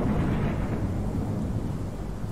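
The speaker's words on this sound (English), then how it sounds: "It's a really loud storm." Loud thunderstorm in the horror video game Pacify, a steady, dense roar of heavy rain and rumbling thunder filling the space continuously, with no voices.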